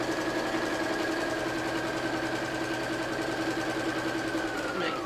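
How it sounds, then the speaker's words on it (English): A sewing machine stitches quilt block pieces for a Flying High block, a continuous, even mechanical whir and hum holding steady for about five seconds with no voices. "stitch that one down."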